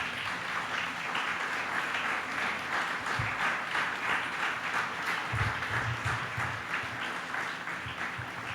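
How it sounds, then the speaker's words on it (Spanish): A church congregation gives sustained applause to the Lord during a Spanish-language service on the Holy Spirit, a dense, continuous patter of many hands at an even level, with a few low thumps partway through. "Dale un aplauso al Señor."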